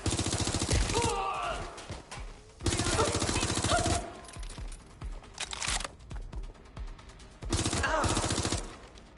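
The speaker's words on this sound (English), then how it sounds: "Shots fired! Shots fired!" Gunfire in the video game Watch Dogs: Legion, with loud bursts of automatic fire in several separate stretches and scattered single shots and impacts between them, close and intense.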